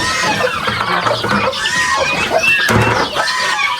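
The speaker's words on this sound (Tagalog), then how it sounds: "Yung baboy natin, umiiyak na. Gusto na kumain." High, piercing squeals from a hungry pig ring out repeatedly and loudly, mixed with clucking and other farmyard noises nearby on a farm keeping pigs, turkeys and chickens.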